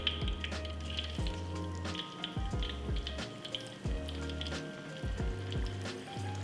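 Bitter gourd pieces deep frying in hot oil give a steady, close sizzle, with faint tonal sounds running underneath.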